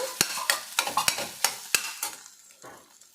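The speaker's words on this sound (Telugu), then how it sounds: "ఇలా వేపుకోవాలండి. క్యాలీఫ్లవర్ ఇలా దగ్గరగా వేగిన తర్వాత" Cauliflower frying in a pan while a spoon stirs it, a run of sharp, close scraping knocks over a light sizzle, spaced irregularly and fading toward the end, with no voices.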